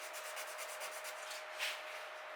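Hand sanding of a turned wooden bowl on a stopped lathe: a close, quiet run of rhythmic back-and-forth scratchy strokes, evenly paced and alone, with no voices.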